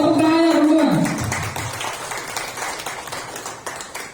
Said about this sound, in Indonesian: Mohon tepuk tangannya teman-teman.